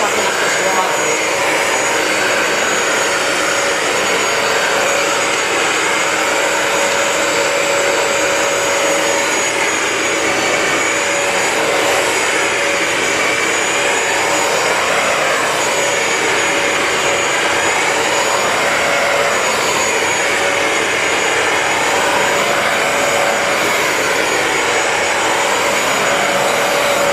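A Bissell ProHeat 2X Revolution Pet Pro carpet cleaner, model 2007F, sucks up water from carpet with a steady, loud, high whine and airy roar that holds unbroken for the whole stretch.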